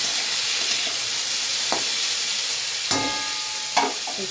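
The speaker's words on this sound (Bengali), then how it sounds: "তেল বসিয়ে জিরে ফোড়ন দিয়ে দিয়েছি, গরম হয়ে গেছে তেলটা, জিরে ফোড়নটা দিয়ে দিয়েছি। এবার আলুটা দিয়ে দিলাম।" Potatoes in hot oil with cumin seeds, a loud continuous sizzling hiss with a few brief clinks and stirring knocks scattered through, close by and with no speech.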